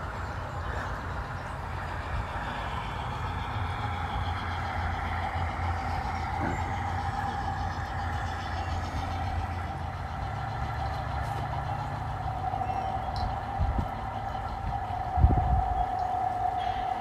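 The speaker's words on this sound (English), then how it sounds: "So now I'm going to go back and get the caboose to tack onto the end of the train." A garden model train backing up at a lumber mill rumbles steadily as it moves, with a sustained humming tone and a few clacks near the end; no voices.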